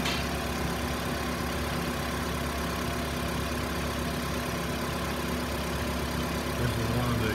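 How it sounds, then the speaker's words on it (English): A Toyota RAV4 engine with a blown head gasket idles steadily up close, a constant dense rumble with a faint irregular knock under it and no talk. "This is a classic blown head gasket."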